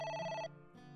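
A phone ringing in the game AI: The Somnium Files, a short electronic ring tone that stops after half a second and is followed by a softer lingering tone.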